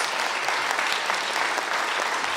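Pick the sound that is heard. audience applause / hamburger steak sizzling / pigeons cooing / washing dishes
audience applause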